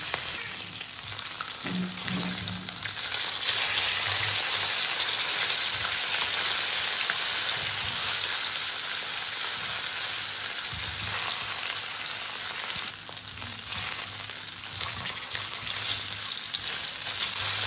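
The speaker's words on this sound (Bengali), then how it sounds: "মাছটা ভাজা হতে হতে" Deshi magur catfish frying in hot oil gives a long, even, close sizzle that holds steady, with faint spattering and a brief low thump early on and no talking.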